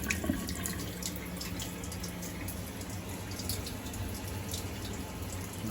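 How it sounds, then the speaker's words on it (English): Hot water tap running in a home during a boiler fault check, a steady, moderately faint hiss of flowing water with no talk. "it's the same for the hot water, if I run the tap."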